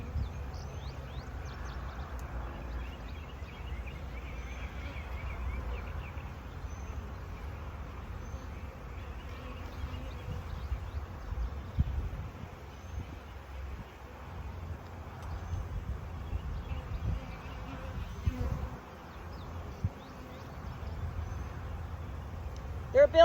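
Honey bees buzz around an open beehive being checked during the early summer honey flow, a low steady drone near the microphone with faint handling sounds and some wind.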